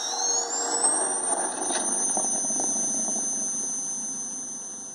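A homemade Ghostbusters proton pack built on Arduino powers on with a rising electronic whine that settles into a sustained high tone over a low rumbling hum, close and fairly loud, with no talking.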